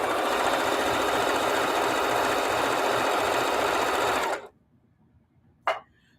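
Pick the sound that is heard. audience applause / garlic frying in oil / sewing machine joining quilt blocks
sewing machine joining quilt blocks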